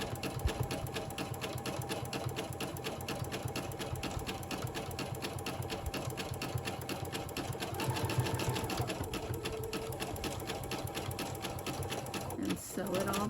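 A sewing machine running a zigzag stitch at three stitch length across a decorative hot pad, a steady continuous whirring hum close by that runs through the whole stretch, with a voice speaking over it.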